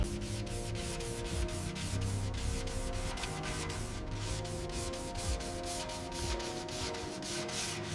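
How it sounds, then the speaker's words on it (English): A dual-action sander grinds old lacquer off the steel body of a 1958 Austin A40 Farina, a steady close rasping with a regular pulsing rhythm running unbroken throughout, no voices. "We're using a dual-action sander to meticulously remove the old lacquer."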